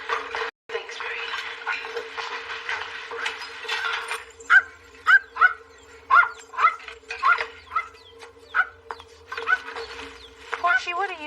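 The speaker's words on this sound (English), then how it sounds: "what are you barking at" A dog barks repeatedly in short bursts, fairly close, with a steady hum underneath and some speech in between.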